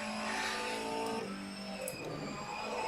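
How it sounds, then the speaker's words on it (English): A steady, high engine drone from a Formula E car in the rFactor 2 racing game on a test track holds throughout, with a brief shift in pitch partway as the car changes gear. "Can you hear me over the car?"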